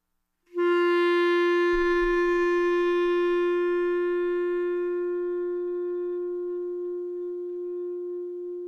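A reed instrument holds one soft, steady long tone for about eight seconds, a clear single pitch that starts cleanly and slowly tapers in volume, heard alone with no talking.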